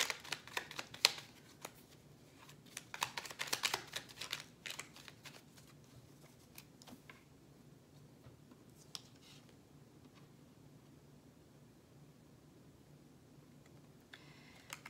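Tarot cards are shuffled in the hands, a close, soft riffling and flicking that comes in quick bursts at first, then thins to faint, sparse card slides and taps.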